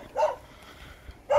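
A dog barks twice at night on a dark outing around Kyiv, two short sharp barks about a second apart, moderately near, with quiet background between them.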